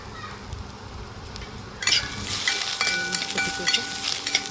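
Peanuts, garlic and chillies roast in a pan for a spicy village-style drumstick curry, a low rumble giving way to loud, steady sizzling and stirring scrapes that run to the end.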